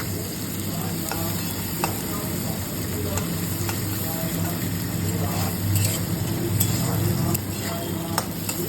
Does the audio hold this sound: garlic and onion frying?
yes